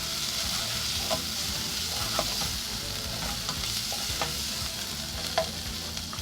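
Ají especial chili paste cooking in a pan for a Peruvian sopa a la minuta, a constant dense sizzle with occasional soft stirring clicks, close and even in level, with no voices.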